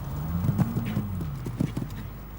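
Horse hooves clip-clopping down a bank on a show jumping derby course at Hickstead, a quick irregular run of thuds at moderate distance with a low crowd or commentary murmur beneath.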